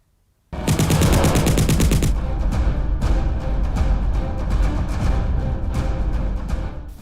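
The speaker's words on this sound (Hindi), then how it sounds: "एक बार फिर सीमा पर गोलियों की आवाज गूंजी है।" Loud, sustained machine-gun fire on the India–Pakistan border near Akhnoor, Jammu and Kashmir, during a ceasefire violation: a dense rapid burst at first, then continuing scattered gunfire with echoing reports.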